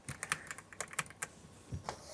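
A Yunzii B75 Pro Max mechanical keyboard fitted with Milk V2 linear switches is typed on in a run of irregular, fairly soft keystrokes. The clacks are close and stand alone, with no talking.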